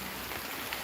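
Rain falls steadily outdoors near the Tu Pu to Tham Wai caves in Chiang Rai, Thailand, a brief, even hiss of drops with no talking.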